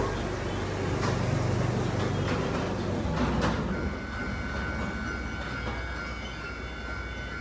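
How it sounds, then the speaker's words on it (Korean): Mini train turning around at Wulai, Taiwan, with a steady rumble of wheels on rails and some mechanical clatter, fading slightly as it moves off. "미니 기차가 유턴해서 다시 돌아와요."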